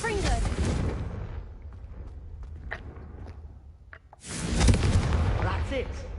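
Confringo fire-spell blasts in the video game Hogwarts Legacy, two loud roaring bursts of fiery noise, the first fading into quieter scattered crackles and thumps before a second blast swells at the end.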